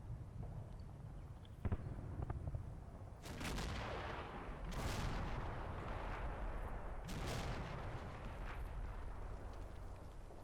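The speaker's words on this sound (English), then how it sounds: "It looked like we had an explosion in the village down there" Battle in a village in the wargame Combat Mission: a steady rumble of distant gunfire punctuated by several loud, sharp explosions with long decaying tails, no voices.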